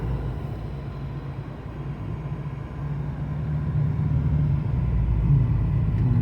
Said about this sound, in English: It has lots of torque and power, but you can see it is noisier in here.